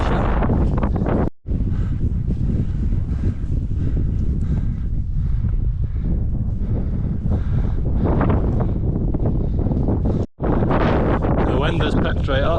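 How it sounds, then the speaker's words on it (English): Strong gusting wind buffets the microphone near the summit of Ben Chonzie in Scotland, a loud continuous roar that briefly cuts out twice, with no voices heard. "The wind has picked right up, but we're still not in the clouds yet."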